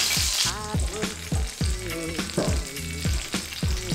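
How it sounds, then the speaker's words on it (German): Cherry tomatoes fry in hot fat in a very hot pan, giving a loud continuous sizzle broken by rhythmic stirring scrapes and bursts of spitting. "Ihr könnt aber auch heißes Fett benutzen, dann nennt man das Ganze Konfieren."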